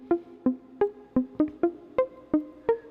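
Synth lead with reverb from a track, playing a steady pattern of about nine evenly spaced plucky notes over three seconds, each tail decaying softly into the reverb.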